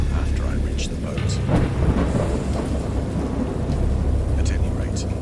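A stormy night in an audio drama: steady heavy rain roars under deep rolling thunder rumbles, with occasional brighter crackles, continuous and loud throughout.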